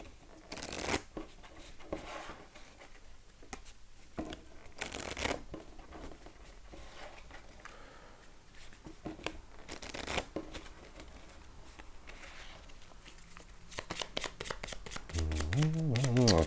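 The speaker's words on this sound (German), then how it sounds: "muss mischen, wie es aussieht" Cards from the Luxor board game are shuffled by hand in repeated riffling bursts and softer slides, close and steady. A voice rises near the end.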